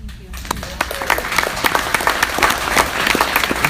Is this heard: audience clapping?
yes